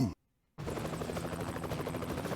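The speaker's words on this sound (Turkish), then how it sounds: "Şimdi bakın şöyle bir helikopter var." Helicopter in the side-scrolling action game Broforce, a continuous buzzing rotor drone with rapid pulsing chop, cut by a brief silent gap near the start and then steady and loud to the end.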